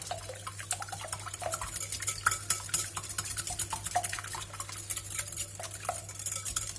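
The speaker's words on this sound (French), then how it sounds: "Dans mon saladier, je bats 3 œufs entiers." Three whole eggs beaten by hand in a mixing bowl for a pepper cake batter, a steady run of quick, close clicking and tapping strokes against the bowl over a low background hum, with no one talking.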